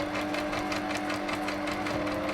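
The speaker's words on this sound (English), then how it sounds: "So what you do is you kind of just lay things down, and then you just sew." A sewing machine stitching through layered, torn-edged paper for a file folder folio, running in a steady fast rhythmic whir with needle pulses, close and continuous without talk.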